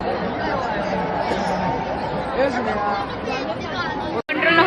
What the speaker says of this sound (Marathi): जबरदस्त गर्दी।